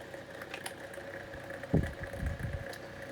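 A Lloydtron 9-inch desk fan runs at its highest speed with a steady, low motor hum and a slight rattle, close by, broken by a brief knock or clunk partway through.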